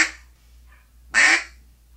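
An all-acrylic Buck Gardner Mainstreet duck call, made in Memphis, Tennessee, gives two raspy quacks close up, a shorter one followed by a louder, longer one, with a faint low hum underneath.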